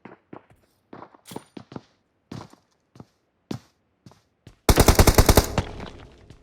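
PUBG Mobile gameplay: scattered single gunshots and thuds early on, then a loud rapid automatic burst of gunfire lasting about a second and trailing off.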